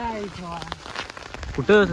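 Rain falls as scattered pattering drops over a brief moment, mixed with voices talking over it.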